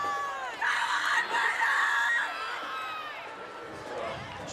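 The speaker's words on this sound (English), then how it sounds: "Just awful screaming down here." A crowd at a high school football game screams and cheers in a sustained, high-pitched roar that swells and then fades, heard from a distance.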